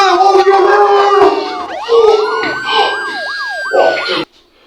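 Loud wailing sirens from police and ambulance vehicles sweep and warble close by, with several rising and falling tones overlapping for a few seconds before cutting off abruptly.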